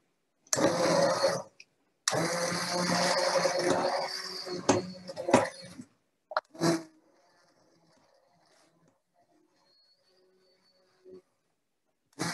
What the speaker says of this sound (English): So I have a nice handheld blender here.